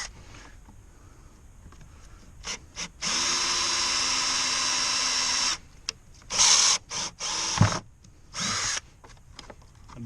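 A power drill bores into the rear skid plate of a Suzuki KingQuad ATV, running in one long steady whine and then several shorter close bursts with clicks between.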